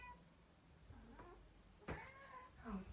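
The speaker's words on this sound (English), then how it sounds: "Oh, my cat wants to come in." A cat meows several times close by, short plaintive cries spread over a few seconds in an otherwise quiet room.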